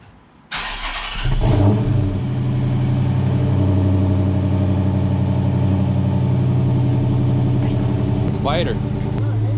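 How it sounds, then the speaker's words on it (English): A Chrysler 300 with a 5.7L Hemi and Corsa Extreme catback exhaust cold-starts with a sharp crank and loud bark, then settles into a steady, deep, rumbling high idle for several seconds. "So now it's time for the cold start."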